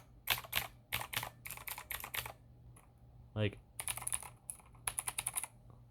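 Clicky bursts of typing on a computer keyboard fitted with thrifted keycaps come through close and crisp in quick irregular runs, with a brief murmured word in between.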